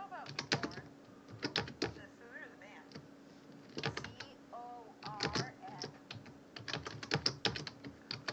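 Quick bursts of keystrokes on a computer keyboard, clustered taps with short pauses between them, close and fairly quiet.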